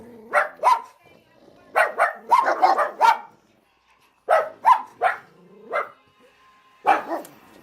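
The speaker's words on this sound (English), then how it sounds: "All the dogs are barking at the car trying to snowblow his..." Several dogs bark in repeated loud bursts and short clusters, some yippy, at a car during a snowstorm in Rochester, New York, with brief pauses between volleys.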